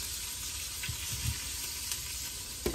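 Oxtail, marinated overnight for Jamaican oxtail, browns in a hot pan with a steady close sizzle, broken by a few soft stirs and a sharper clink near the end.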